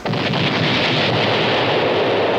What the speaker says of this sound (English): Sometimes the echoing of a cannon shooting across the water stirs up the river and brings sunken things up to the surface.